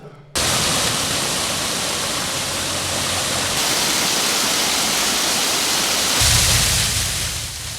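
A restored waterfall at Big Spring Park in Neosho rushes loudly and steadily, a broad continuous roar of falling water that starts abruptly and holds for several seconds.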